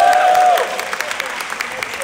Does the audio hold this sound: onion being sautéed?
no